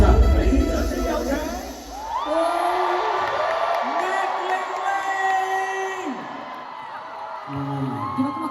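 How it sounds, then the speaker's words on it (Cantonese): A crowd whoops, yells and cheers at a comedy concert at the Hong Kong Coliseum, loud sustained shouting voices rising and falling with no clear break. "俾掌聲有請"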